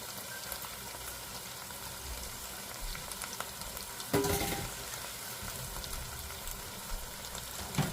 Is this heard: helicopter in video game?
no